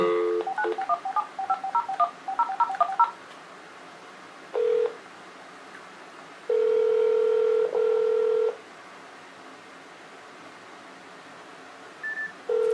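A phone dialing a number on an Android handset: a quick run of keypad tones, then a ring-back tone that pulses twice, followed by a short beep near the end, all clear and close with no talk.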